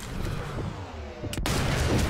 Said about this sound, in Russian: Ой, это уже выстрел в упор.